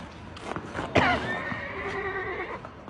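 A horse gives a loud, close whinny, a single long, shaking neigh that falls away over about two seconds, preceded by a few soft thuds.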